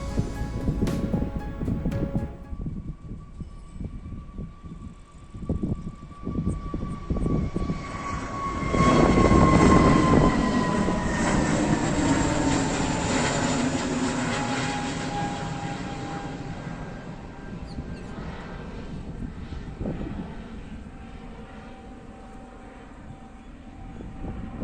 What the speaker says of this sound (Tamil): அண்ட் இண்டிகோ டேக் ஆஃப் ஆகிறத காட்டுறேன் பாருங்கள்.